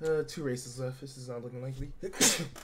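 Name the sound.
sneeze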